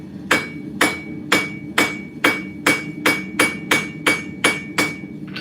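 A hammer sets a rivet on a forged Bowie knife with about a dozen close, sharp metallic taps in a steady, fairly quick rhythm, each ringing briefly, with no talk.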